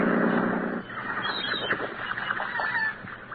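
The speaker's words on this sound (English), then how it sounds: "Belmar's Island had overstuffed seagulls on it the size of vultures." Seagulls call on an island in a radio drama sound effect, their harsh overlapping cries steady across the clip, heard through narrow, lo-fi old-time radio sound.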